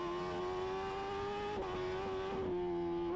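Road racing motorcycles at the Cookstown 100 holding a steady high engine drone with no clear pass-by peak, heard behind a constant layer of loud engine noise.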